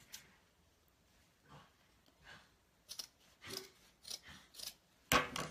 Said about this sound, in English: we're going to cut at an angle from the fold